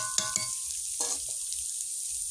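Onion and garlic fry in a pan with a bright, steady sizzle, broken by a few clinks and scrapes of a utensil stirring near the start and again midway.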